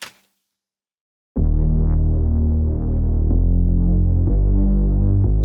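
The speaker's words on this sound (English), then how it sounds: "I wrote this entire song to just this bass loop." Two layered dark, gritty bass synth loops kick in after a brief silence, throbbing in a loud, sustained low drone with rhythmic pulses and shifts for a few seconds, no voices.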